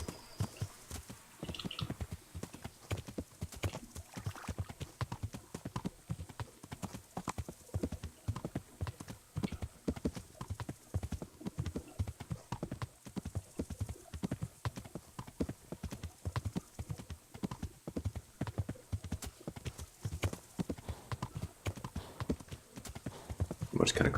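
Horse hooves clip-clopping steadily while riding in Kingdom Come: Deliverance, a continuous rhythmic gait throughout, with someone talking over it at times.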